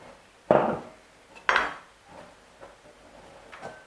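Chopped vegetables dropped into a bowl for a Cameroon-style vegetable salad, two distinct clattering knocks against the bowl about a second apart, followed by softer handling sounds.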